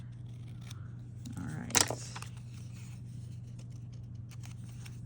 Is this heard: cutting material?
yes